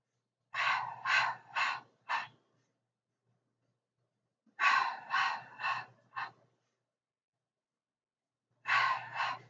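Breathing in and out through a Pilates exercise, audible breaths in rhythmic bursts of about four or five puffs each, repeated three times with pauses between, close and fairly soft, with no talking.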